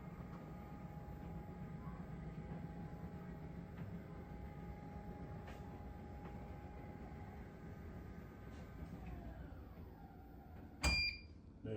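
A Bruno stairlift hums along quietly indoors, then halts with a single short, bright beep near the end.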